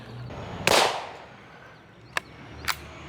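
A .22 Magnum rifle shot fired over a chronograph, one sharp loud crack with a short echoing tail, followed by two fainter distant pops, no speech.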